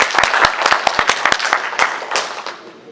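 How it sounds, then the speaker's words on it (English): Audience applause at a cosplay panel during the Comikaze 2014 convention, a burst of many hands clapping up close with sharp individual claps standing out, fading somewhat toward the end. "give them a round of applause."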